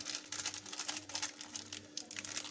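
A yeast packet being opened and handled while making bread dough, giving close, crisp bursts of crinkling and rustling plastic or foil in quick irregular succession, with no talking.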